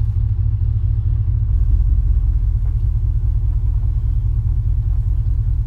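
A car engine idles steadily while the vehicle rolls slowly under a beginner driver, a loud, constant low rumble from inside the cabin with no change in pitch and no talking.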